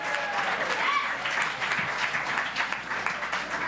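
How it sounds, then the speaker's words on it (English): An audience applauds as a volunteer comes up on stage at a musical show, steady clapping filling the room at moderate loudness, with a host's voice talking over it. "Give him a round of applause, guys."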